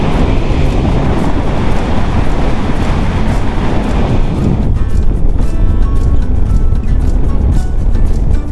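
Strong wind roars and buffets the microphone continuously on a Honda Forza 300 scooter ride in the Alentejo, a loud, steady rushing noise throughout.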